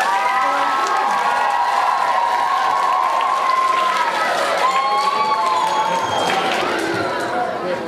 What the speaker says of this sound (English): So I would like, first of all, a big Belgo round of applause.